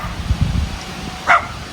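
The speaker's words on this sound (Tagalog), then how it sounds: "Oh, nagalit na yung aso." A dog at a camping spot on a road trip barks angrily, giving a couple of short low woofs close by and then a sharper yelp-like bark, with faint rustling around it.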